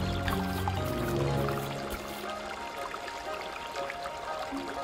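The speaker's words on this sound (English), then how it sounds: "Water is flowing heavily." River water rushes and splashes heavily in a steady, broad wash, fairly quiet and continuous, with no voices.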